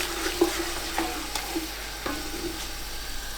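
Tomato and chili paste being stirred into a frying pan for Kabuli pulau: a soft, steady sizzle with a few clicks and scrapes of a spoon against the pan, no talking.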